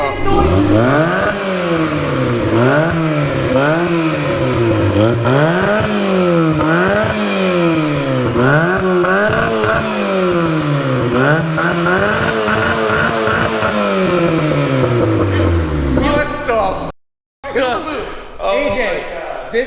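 A quad-turbo Honda Civic revs repeatedly through a rectangular exhaust, the engine note rising and falling in steady loud pulls, ending with a brief cutoff and some rattling.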